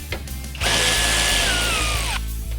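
A power drill whines steadily for about a second and a half, removing the tailgate strap bolt on a Ford F-150 pickup, close and loud, its pitch easing down before it stops, with a low mechanical hum underneath.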